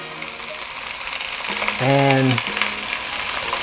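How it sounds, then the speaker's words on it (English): A pound of sausage fries loudly in a hot pan, a dense, hissing sizzle with occasional scraping as it is broken up, and a brief voice speaks midway. "we will start to cook a pound of sausage. We'll scramble this up"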